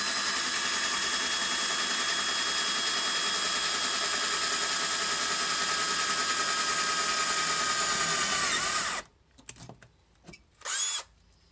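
A power drill runs steadily with a 3/16 bit, boring a hole for a survival fire starter, loud and continuous for about nine seconds before cutting off, followed by a couple of short bursts.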